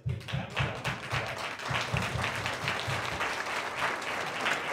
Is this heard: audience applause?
yes